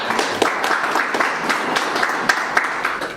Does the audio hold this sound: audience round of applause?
yes